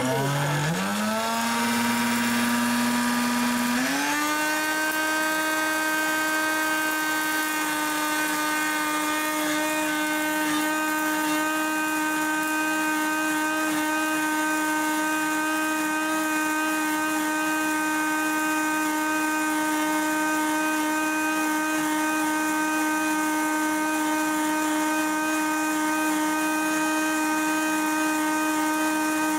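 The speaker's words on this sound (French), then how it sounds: "j'avais mon blender qui était quasiment rempli de houblon" A kitchen blender packed almost full with hops for a hop tincture spins up with a brief rising whine, then settles into a loud, steady motor drone that runs unbroken for about half a minute, with no talking over it.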